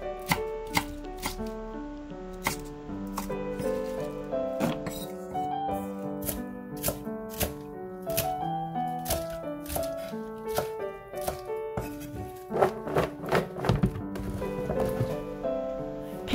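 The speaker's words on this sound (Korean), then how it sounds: "알레추는 700g으로 적당한 크기로 썹니다" A knife cuts young napa cabbage and radish on a board for nabak kimchi, making quick sharp chops in irregular bursts that crowd together near the end, over soft background music.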